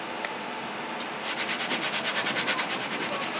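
A sword saws back and forth across chain mail armor, a gritty metallic rasping that builds into a fast, steady scraping rhythm after a couple of isolated clinks.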